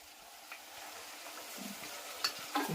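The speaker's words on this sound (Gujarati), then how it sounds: "હવે ટમેટા નાખી દઈએ ટમેટાની ગ્રેવી" Tomato gravy poured over stuffed brinjal in a pan, a soft sizzle with a few stirring clinks and scrapes, fairly quiet and growing brisker near the end.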